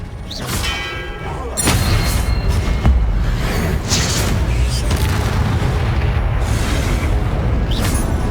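Confringo blast spells exploding in Hogwarts Legacy combat, loud booming bursts landing one after another over a constant rumble, with occasional bright crackling impacts.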